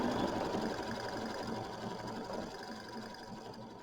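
A sewing machine stitches quilting in mint thread, a fast, even mechanical whir running steadily and fairly close, easing slightly near the end, with no talk.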